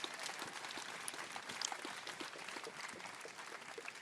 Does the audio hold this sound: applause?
yes